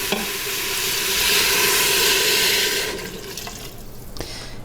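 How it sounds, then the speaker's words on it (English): Water pours in a steady rushing stream onto dry lentils in an Instant Pot, building over a few seconds before tapering off, followed by light clinks of the pot. "And then I'm going to add some water."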